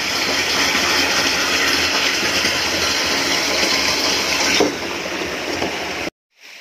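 A loud, steady rush of stream water pours continuously into a water tank, close up, before dropping in level and cutting off abruptly near the end.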